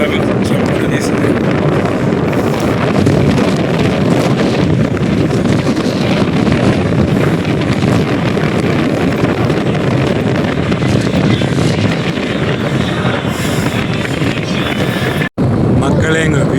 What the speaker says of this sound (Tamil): மக்களே, இங்கே காற்று எல்லாமே சூப்பராக வீசுது.